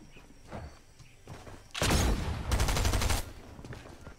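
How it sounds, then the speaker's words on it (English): Bursts of gunfire in the Fortnite video game, a loud rapid volley of shots in the middle of the clip with fainter scattered sounds before and after. "There's a lot of gunfire going on."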